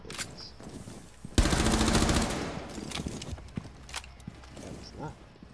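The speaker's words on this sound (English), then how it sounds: "That was a lot of bullets." A rapid burst of automatic gunfire in a Rainbow Six Siege-style tactical shooter, loud and dense for about a second, then trailing off into scattered quieter shots and footsteps, with a voice talking alongside.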